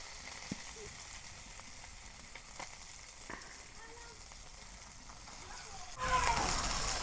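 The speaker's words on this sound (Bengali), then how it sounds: "একেবারে মাছগুলো আমি ভালো করে ভাইজা নিতেছি, কড়া করে একেবারে সুন্দর করে ভাইজা নিতেছি" Fish fried crisp in hot oil for a village-style fish and taro curry gives a steady low sizzle with small pops, jumping to a louder, brighter hiss near the end.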